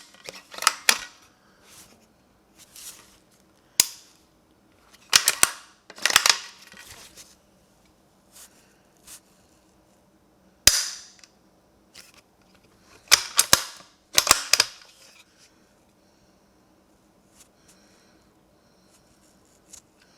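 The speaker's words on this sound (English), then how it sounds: "got to put the bolt back in." A hunting rifle's bolt is slid back in and worked, giving sharp metallic clicks and clacks in scattered clusters with quiet gaps between them, close and distinct.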